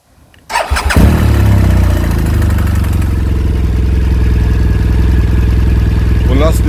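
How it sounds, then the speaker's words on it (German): A BMW R1200 GS motorcycle engine, freshly filled with 5W-40 oil after an oil change, cranks briefly, catches and settles into a loud, even, close-up idle with a steady rhythmic pulse. "dann wollen wir mal den Motor starten"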